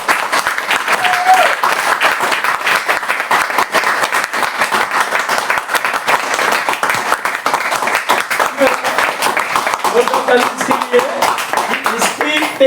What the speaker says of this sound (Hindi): अपनी डीएक्सएम के लिए एक जोरदार ताली होनी चाहिए, जोरदार।